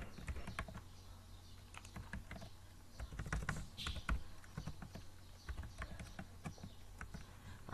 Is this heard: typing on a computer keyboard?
yes